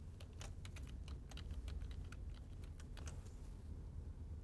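Rapid, light clicks of typing on a computer keyboard, faint and close, in an irregular stream of keystrokes with no speech.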